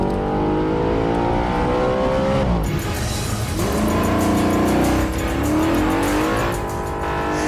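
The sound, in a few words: Audi RS5 Cabriolet 4.2-litre V8 driving fast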